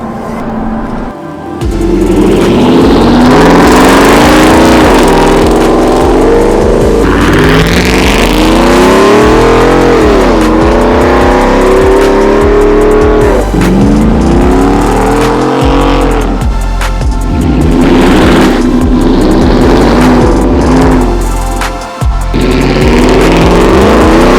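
A loud, deep Ford F-150 5.0 V8 engine with over 100,000 miles revs repeatedly up close, pitch swooping up and falling back in several surges, with a throaty rumble throughout and no voices.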